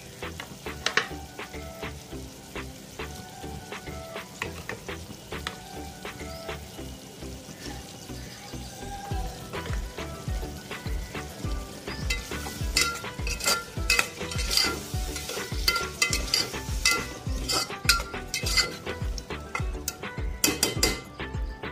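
Tomatoes frying in a pan for tomato pulao, with close sizzling and crackling plus repeated stirring and scraping of a utensil against the pan throughout, growing busier toward the end.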